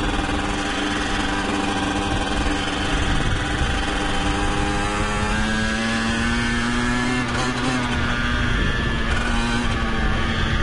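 A LEM LX4 mini motocross motorcycle engine running while ridden, a loud, steady buzzing drone whose pitch climbs and falls with the throttle, close by and with no talk over it.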